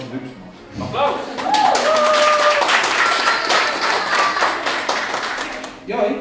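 An indoor audience bursts into sustained applause, dense clapping swelling after a brief moment and holding steady for several seconds before tapering off, with a few voices and a whistle-like cheer mixed in.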